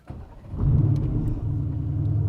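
A deep, grumbling Mercedes-AMG GT R engine idles and swells into a steady low rumble, close by, with no voices.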